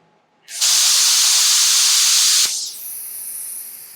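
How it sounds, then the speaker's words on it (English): A new plasma cutter slicing steel during a steel sailboat refit. A loud, harsh hiss bursts on abruptly, holds for about two seconds, then drops to a quieter, thinner hiss. "So I will be using our nice new plasma cutter"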